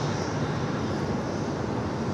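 Jet airliner engines roaring on the runway at LAX, a steady broadband rumble that holds without a break, loud and continuous with no voices.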